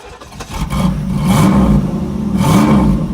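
A wrecked junkyard Camaro's 305 V8 cranks and fires for the first time, then revs hard and loud, with the engine note climbing and surging in repeated blips, close up and with no talk.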